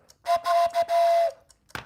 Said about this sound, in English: That gets a train whistle.